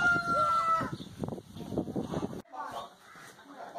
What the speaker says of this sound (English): the kids love the chickens